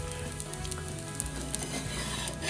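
Amboli batter sizzles on a chapati griddle, a steady close crackling hiss with small pops, continuous and alone.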